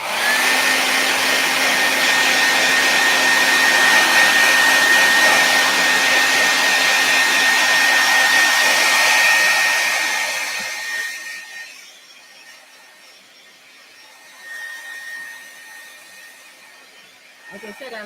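A hair dryer blows steadily and loudly on a jelly roll, a broad constant whoosh with a steady whine, then cuts off about ten seconds in, leaving a quiet tail with faint movement.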